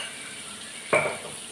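A pan of food being sautéed with a little salt gives a soft, low sizzle, then one sharp utensil scrape against the pan near the middle, followed by a brief surge of frying.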